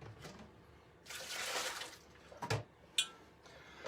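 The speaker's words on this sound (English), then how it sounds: "I'm just going to decant it into my Chemex" Brewed coffee being decanted into a glass Chemex makes a brief, quiet splashing pour, followed by a few soft clinks and taps in an otherwise still room.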